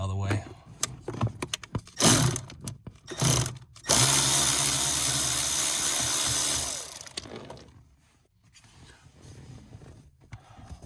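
A power tool works a 10 millimeter bolt inside a Nissan Maxima's interior: a few short clunks and bursts give way to about three seconds of loud, steady whirring, then it stops, leaving faint handling noise.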